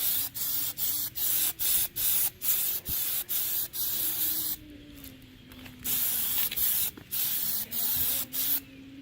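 A second coat of spray paint going on in quick, evenly spaced hissing bursts, close and loud, over a faint steady background hum.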